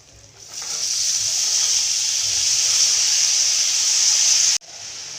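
Cowpea pods hit hot, fried masala and set off a steady, loud, bright sizzle that swells quickly and holds for several seconds before cutting off abruptly.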